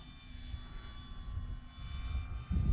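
A Dynam Hawker Hurricane V2 RC model warbird flies overhead, its electric motor giving a steady, moderately distant hum that swells louder toward the end as the plane passes closer.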